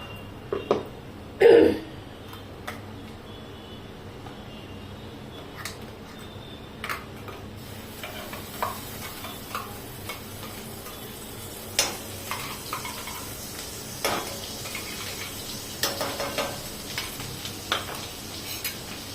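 Ground masala paste going into hot oil with sizzling cumin in a pan, a sharp splash-like burst early on, then faint sizzling under scattered ticks and scraping clicks of stirring.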